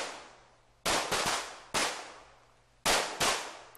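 Five sharp gunshots ring out at a 1930s Korean independence army shooting range, arriving in irregular pairs and singles, each with a sudden loud crack followed by a long echoing decay, and no voices are heard.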